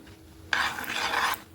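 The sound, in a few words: stir-frying palm fruit kheer in a pan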